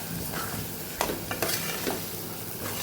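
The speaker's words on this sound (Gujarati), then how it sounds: "મસાલા સાથે આપણે સરસ ચોળીને સાતળી લેવાની છે" Black-eyed peas being sautéed with spices in oil for a Kathiyawadi curry: a steady, close sizzle runs throughout, with a few sharper scraping stirs of a spoon in the pan partway through.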